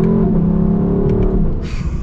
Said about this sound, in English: So we, of course, have to get a full-blown acceleration.